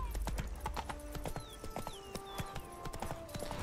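Roach, a horse in The Witcher 3, gallops with quick, rhythmic hoofbeats that clip-clop close and clear over faint game sounds.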